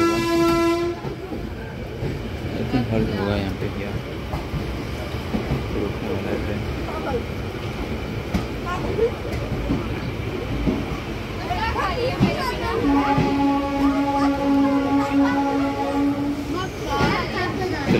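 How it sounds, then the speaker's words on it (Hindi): A slow passenger train from Sealdah to Lalgola in rainy weather rumbles and clatters steadily on the rails, and its horn sounds briefly at the start and again later while people talk nearby. "ट्रेन बहुत स्लो चल रहा है"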